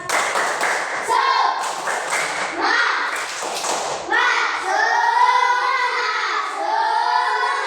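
Children in a classroom perform a rhythmic clapping chant, with a few sharp, patterned bursts of claps in unison followed by the children's voices chanting together loudly and close.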